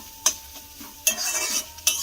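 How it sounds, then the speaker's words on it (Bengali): Cumin and spices fry in a pan alongside chilli while a utensil stirs, giving three sharp scraping strokes at regular intervals over a soft, low sizzle, close and without talk. "1/2 চামচের মতো দিয়ে দিলাম জিরে, দিয়ে আমি আবারও একটু মিশিয়ে নেব।"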